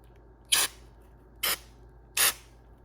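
Knockdown wall texture sprayed from a hopper nozzle onto a small drywall patch indoors: three short, sharp hissing bursts, evenly spaced and close, with quiet between them.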